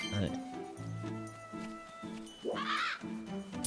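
Bird calls from the video game Legend of Zelda: Skyward Sword, a few short chirping cries rising over steady game music and ambience, with one brighter, louder squawk near the end.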